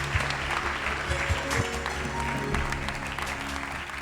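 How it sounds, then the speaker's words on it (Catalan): An audience applauds at a local sports awards festival in Alcarràs, a steady wash of clapping running for several seconds, with faint tonal music or murmur beneath. "Un fort aplaudiment."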